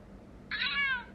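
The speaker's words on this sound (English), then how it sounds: "I'm just going to add in the cat one." A single synthetic cat meow sound effect from a TikTok editor's animal sound library, short and clear, rising suddenly out of quiet background hiss and fading after about half a second.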